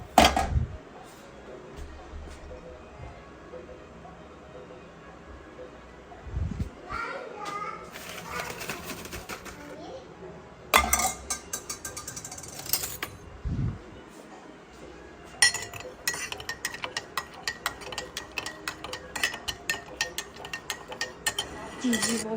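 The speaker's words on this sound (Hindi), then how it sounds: "बर्तन तकरीबन धुल गए हैं।" Dishes being washed in a home kitchen, with pots and cutlery clinking intermittently throughout, some knocks louder and nearer, mixed with children's voices and other talk in the background.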